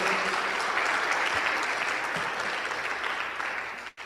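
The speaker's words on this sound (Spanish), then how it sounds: "Dale un aplauso a la palabra del Señor, por favor." A church congregation applauds in praise after a sermon, dense steady clapping filling the room loud and close, then tapering off sharply near the end.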